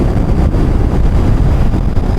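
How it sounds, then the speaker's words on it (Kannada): Heavy, steady wind buffeting the microphone while riding a 2025 Suzuki Hayabusa motorcycle toward hills, a loud continuous low roar with no gaps and no voices. "ವಿಂಡ್ ವಿಂಡಿದೆ ಹೋಗಿ ಇವತ್ತು"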